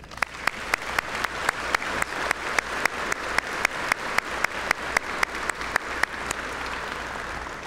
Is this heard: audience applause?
yes